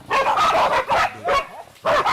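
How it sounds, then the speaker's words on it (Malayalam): Several dogs bark and yip loudly and close up while attacking a leopard, delivering four sharp, agitated bursts with brief whimpering gaps between them. "നായ്ക്കളെ ഒരുമിച്ച് നിന്ന് അറ്റാക്ക് ചെയ്യാണ്."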